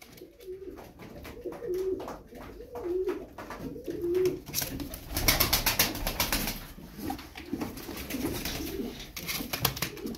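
Turkish tumbler pigeons coo in repeated soft, throaty phrases close by, with occasional wing flaps and rustling in the loft.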